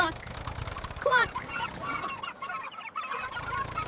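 Cartoon chicken clucking in a cute animated scene, a run of quick, close clucks over light background music, with a voice making the bird sounds.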